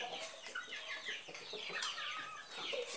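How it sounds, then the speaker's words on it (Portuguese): A rooster clucking and squawking in agitation as it is caught by hand, close and continuous with rustling and flapping, no talk over it. "Vou pegar agora o outro galo aqui."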